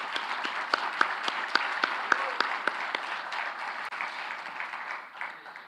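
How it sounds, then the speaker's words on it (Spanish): Audience applause at a CPAC political conference in Paraguay, a large crowd clapping steadily with a few sharp individual claps standing out, then slowly thinning toward the end. "Aplausos para ellos"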